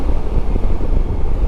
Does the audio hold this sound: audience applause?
no